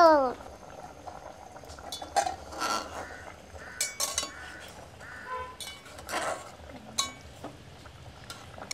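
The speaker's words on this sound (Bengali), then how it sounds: "ঢাকনা তুলে দেখি জল ফুটছে ভিতরে" A pot of water with a fish head and vegetables bubbles and rattles at a steady boil, close by, with intermittent clinks of the lid and utensils.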